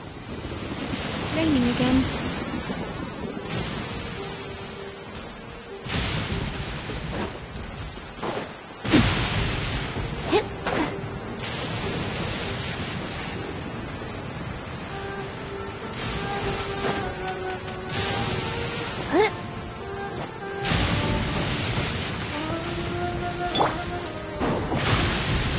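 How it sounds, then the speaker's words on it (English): Steady rain hisses through the Genshin Impact game scene, with occasional heavier crashing bursts like thunder and brief voices over the downpour. "Raining again."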